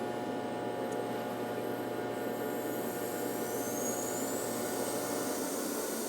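Compressed air hisses steadily into a vehicle transfer box during a leak test, a constant broadband rush that holds at an even level throughout with no talking.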